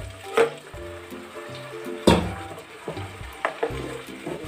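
Ginger-garlic and tomato paste is stirred in a frying pan, with a low sizzle beneath a few louder scrapes and clinks of the spoon against the pan at irregular moments.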